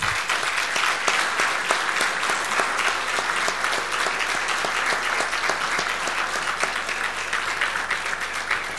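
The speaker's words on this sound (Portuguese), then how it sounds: "eu pedia que lhe concedessem uma salva de palmas que ele bem merece" A dinner crowd at a volunteer firefighters' anniversary in Esposende gives their commander sustained applause, a thick, even wash of many hands clapping throughout with no talk over it.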